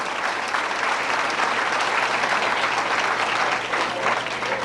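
A banquet audience at a 1990 speedway awards dinner in Highland, Illinois breaks into steady, full-room applause that holds at an even level throughout, dense and continuous with no voices standing out.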